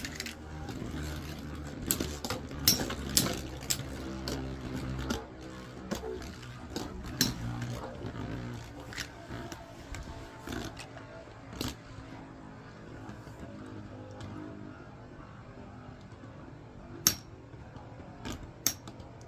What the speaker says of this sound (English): This sucks that L-Drago can't spin still, since both bays are spinning to the left